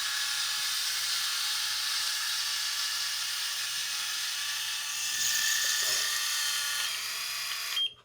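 Thin, high electric buzz of a Brio head shaver trimming hair, running steadily close up and then cutting off abruptly at the end.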